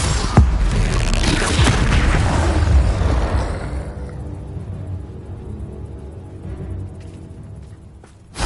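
A Bombarda spell explosion in the Hogwarts video game hits as a loud, close, rumbling boom that roars for several seconds, then decays into a quieter lingering rumble, ending with a sharp thump.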